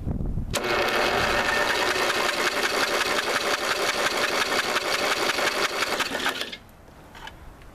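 A 1985 Lawn Chief lawn mower engine in worn, poor condition being cranked, a loud continuous rapid chugging rattle for about six seconds that stops abruptly, leaving quiet room tone.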